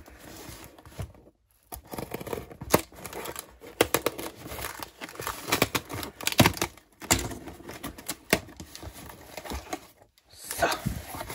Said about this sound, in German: So viel Klebeband habe ich in einem Video noch nie durchgeschnitten.